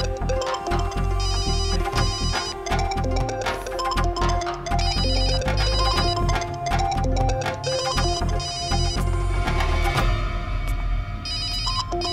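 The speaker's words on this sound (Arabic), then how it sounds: "انا لازم رد على الاتصال." A cell phone rings with a looping electronic ringtone tune, steady and prominent, while a low musical bed plays underneath and no one speaks.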